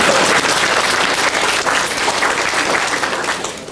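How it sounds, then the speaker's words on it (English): Audience applause fills a convention panel room at a Transformers fan event, steady close clapping from a crowd for a few seconds before thinning out toward the end. "You can clap."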